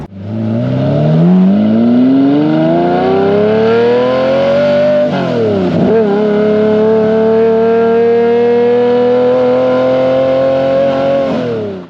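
A high-mileage Lamborghini Murcielago's engine wails loudly on the open road, climbing steadily in pitch through one gear, dipping briefly at a shift, then holding a strong sustained howl while cruising.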